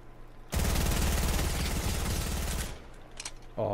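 Fortnite gunfire during a fight: a sustained rapid burst of automatic fire lasting about two seconds, loud and dense, then scattered quieter shots and game noise after it.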